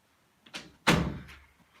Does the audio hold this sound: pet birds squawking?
no